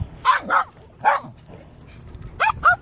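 Dogs barking outdoors nearby: a few sharp, yippy barks in quick pairs, then a pause, then another close pair, all loud over light background noise.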